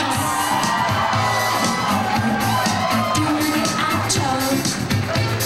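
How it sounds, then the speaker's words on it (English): Wedding guests applaud and cheer loudly for the bridesmaids and ushers, a dense continuous wash of clapping with whoops and shouts mixed in, close and sustained throughout. "Big round of applause."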